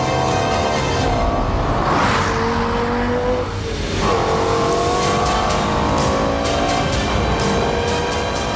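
A Lexus LFA production car at full race pace on a fast lap, its engine screaming loud and close through rising revs and sharp gear changes, with tire noise beneath.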